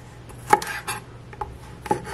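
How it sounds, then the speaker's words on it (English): A knife trimming the ends off long beans (bodi) on a board, a few sharp, quiet cutting clicks and taps spaced irregularly, with no talk. "And then turn it around and just slightly cut the other ends off."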